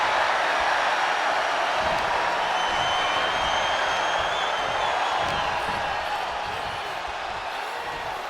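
Wrestling arena crowd in WWE 2K25, a dense continuous roar of spectators with faint cheering and whoops, holding loud and steady before easing slightly near the end.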